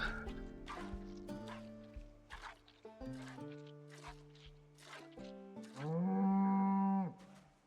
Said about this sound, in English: This cow has one favorite thing, and that's giving milk.